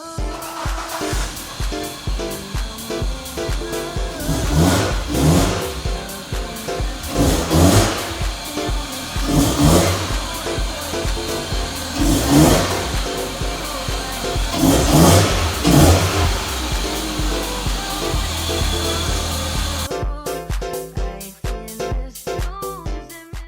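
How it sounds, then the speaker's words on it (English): A car pulls in while its engine revs in repeated loud surges every few seconds, rising and falling for about twenty seconds before the sound cuts off abruptly near the end; no one speaks. "let me pull in the car and we can start from there"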